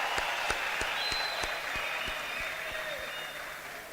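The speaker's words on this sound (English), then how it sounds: "Let us honor them with a round of applause" An audience at a formal council ceremony gives a steady round of applause, dense clapping sustained for the whole stretch with faint crowd murmur and a few sharp individual claps standing out.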